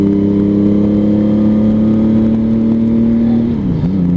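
A 1999 Honda Valkyrie Interstate motorcycle cruises through a quick right-left transition, its engine droning loud and steady up close before the pitch dips and wavers briefly near the end.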